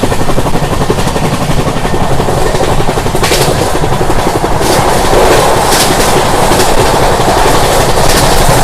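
A special train runs past near Samalkot Junction, a loud continuous rumble and roar with rhythmic rail clatter that swells slightly toward the end, with no one speaking.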